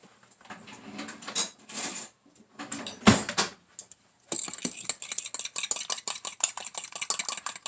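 Pierced roast potatoes being stirred in a dish: quiet rustling at first, then a close run of rapid clinking and scraping strokes, with no voices.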